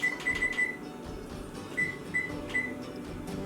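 Kitchen oven control panel being set to preheat, a series of short, sharp electronic beeps in uneven clusters, close and fairly quiet over faint room noise.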